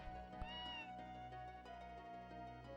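A cat meows in the video game Tales of Phantasia, a short rising-falling meow heard over soft game background music.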